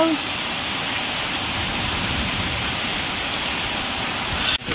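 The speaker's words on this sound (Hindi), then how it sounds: "जोरसोर वर्षाटा है ना" Heavy rain pours down in a steady, loud, dense roar of drops hitting surfaces, continuing without a break and stopping abruptly at the very end.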